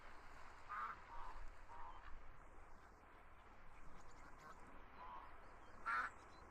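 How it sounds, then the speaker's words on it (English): Faint quacking from ducks in VRChat rises a few times over a quiet, hissy outdoor background, with one louder quack near the end and no talking. "Well, I guess we'll just be here with the ducks."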